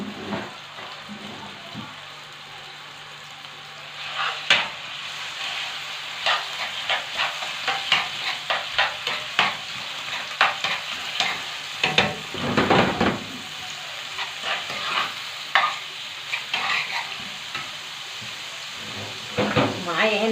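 Chicken gizzards sizzle and crackle in hot oil as they are stirred, a steady frying hiss with intermittent scraping of a spoon against the pan, close by and continuous.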